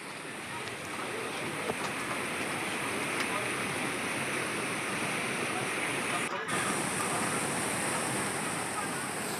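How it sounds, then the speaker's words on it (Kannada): A flooded stream rushes hard after heavy rain in Bengaluru, a loud, unbroken roar of churning water that fills the whole stretch, with a brief dropout midway. "ಆ ಹಳ್ಳನೂ ಭಾರಿ ಜೋರಾಗಿ ಹೋಗ್ತೈತೆ ಅನಿಸ್ತೈತೆ."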